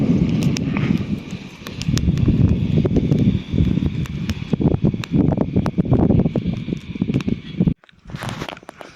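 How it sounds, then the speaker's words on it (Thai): Strong wind buffets the microphone on a hillside farm in northern Laos, a loud, gusting roar with rustling and crackling that drops out briefly near the end before resuming. "ตอนนี้ลมก็กำลังแรงอยู่เนาะพี่น้อง"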